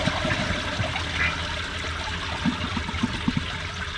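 A toilet flushes a load of thick tissue paper, a loud continuous rush and swirl of water with gurgling bursts near the end, close and with no talking.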